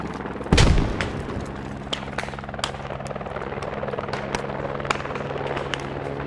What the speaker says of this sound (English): Some guys taking pot shots at me.